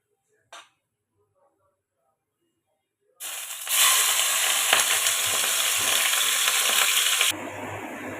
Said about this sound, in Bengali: তেলটা গরম হলে তার মধ্যে মাছগুলো দিয়ে দেব।